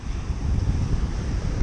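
Ocean waves breaking on a beach make a steady, rolling low roar, mixed with gusty wind buffeting the microphone and no voices.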